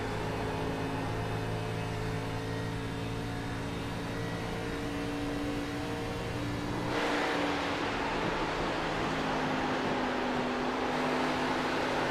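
A race car engine in iRacing at Atlanta holds a high, steady whine that shifts pitch partway through as the car pushes hard, loud and continuous with no talking.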